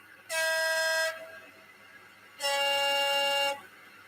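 A model diesel locomotive horn sounds two sustained blasts, each about a second long, separated by a short pause, loud and close.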